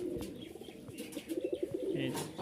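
Magpie pigeons coo nearby in soft repeated bubbling calls, with a rhythmic run of coos in the middle, against light background rustle.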